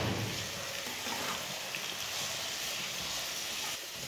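Mixed vegetables with potato, peas and carrot, plus a spoon of ketchup, sizzle and fry steadily in a kadhai while a spoon keeps stirring, a continuous close hiss throughout with no talk.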